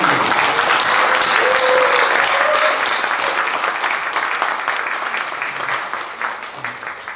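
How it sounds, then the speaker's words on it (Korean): An audience at a graduation worship service gives sustained applause of thanks for the instructors, dense and loud at first and then thinning gradually toward the end. "우리 학생들과 모두가 감사의 박수를 주십니다."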